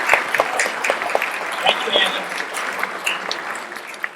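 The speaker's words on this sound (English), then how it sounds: "will you all join me in a round of applause for my spotlight?" Audience applause at an evening of Irish music and poetry, moderate clapping with distinct individual claps that runs under a speaker's voice and gradually fades.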